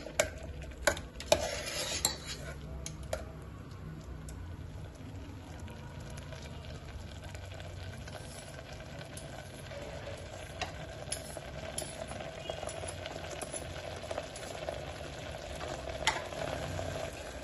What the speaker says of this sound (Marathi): परत एकदा आपण दुधामध्ये थोडं मिक्स करून घेऊयात।